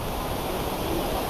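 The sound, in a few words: rushing swollen river water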